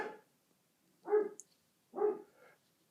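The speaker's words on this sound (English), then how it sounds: "I think that was my dog barking." A dog barks in short, separate bursts, about three or four barks with pauses between, fairly close and otherwise quiet.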